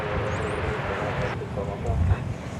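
An airliner in Piedmont heritage livery arrives at DFW Airport, its engines making a continuous broad roar in the distance while people talk over it.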